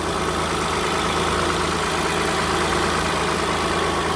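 A 2010 Hyundai Santa Fe 3.5 engine idling after a water pump replacement, a steady even rumble that stays constant and close throughout with no talking.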